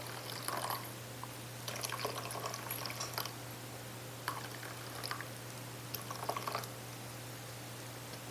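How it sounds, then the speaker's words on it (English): Water pours into a cup of dry soup mix with dehydrated vegetables from a Spanish military combat ration, heard as faint, intermittent splashing trickles over a steady low hum, with no voices. "we're going to put about 5 ounces of water in each one"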